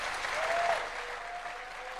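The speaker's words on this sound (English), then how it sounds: "President Ruto and President Macron, a warm round of applause" Warm audience applause for the co-hosts of a summit, steady dense clapping from a crowd throughout, fairly close and even in loudness.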